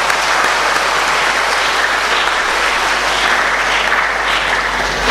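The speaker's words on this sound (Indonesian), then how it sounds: "Kita beri tepuk tangan untuk mereka" Sustained applause from a Christmas Eve Mass congregation in Maria Bintang Samudra chapel, honouring a four-voice liturgy choir; dense, loud and steady clapping fills the space throughout without a break.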